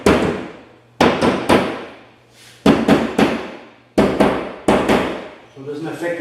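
Sharp taps on the corners of a door hanging bracket, six distinct knocks in uneven pairs with short ringing decays, close and loud with a brief murmur of speech at the end.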